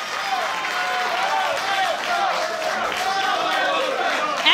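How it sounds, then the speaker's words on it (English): A bloodthirsty women's wrestling crowd in Berwyn, Illinois shouts and roars through a Deonna Purrazzo versus Cheerleader Melissa match, with a steady mass of voices and a commentator talking over it. "Bloodthirsty crowd here in Berwyn, Illinois."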